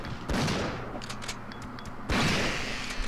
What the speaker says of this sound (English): I wasted a shotgun round